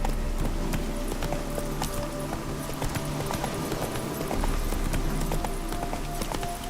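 Roach the horse galloping in The Witcher 3, a rapid, continuous drumming of hooves under steady outdoor game ambience, fairly loud and even throughout.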